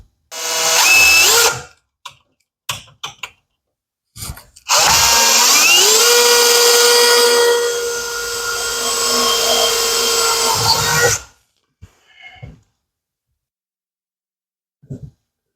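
A power drill drives screws into a retractable window screen frame: short trigger bursts, then a long whirring run of several seconds with rising pitch, followed by brief clicks and silence.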